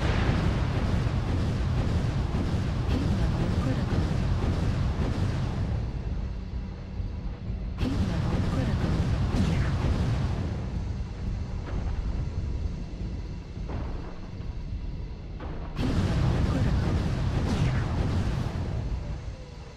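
Incoming missiles exploding in a video game, three long heavy roaring detonations each starting abruptly and rumbling out over several seconds, loud and close, with low engine-like drone between the blasts.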